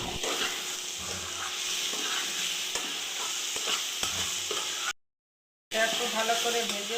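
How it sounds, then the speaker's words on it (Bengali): Spiced chickpea masala fries and gets stirred in a pan, a steady close sizzle with scraping strokes running throughout before a brief dropout of silence, then the sizzle resumes. "একটু ভালো করে ভেজে নেব।"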